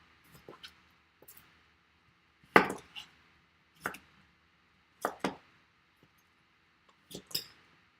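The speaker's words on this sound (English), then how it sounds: "Let's chop up the next one." A knife chops cucumbers for fermentation in a few sharp, separate strikes on a board, spaced one to two seconds apart, close and clear with quiet gaps between them.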